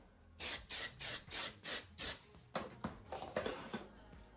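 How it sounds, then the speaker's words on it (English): Six quick, even bursts of aerosol texture spray hissing close up onto hair, followed by several shorter, lighter sprays in a faster rhythm. "I'll spray with my texture spray."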